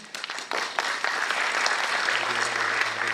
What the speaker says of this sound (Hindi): अभी आपने तालियां बजाया